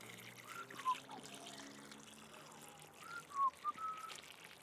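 Water pours into a strawberry wicking bed and drains out through its drainage holes, making soft, uneven trickles and a few brief splashy bursts against a quiet background.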